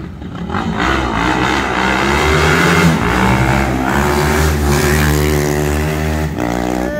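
A 320cc motorcycle engine revs loudly and steadily, its pitch climbing and holding in sustained high-revving bursts close by.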